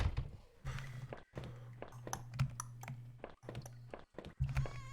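Very loud footsteps in a horror video game, heavy thudding steps repeating in uneven bursts with short pauses, close and prominent.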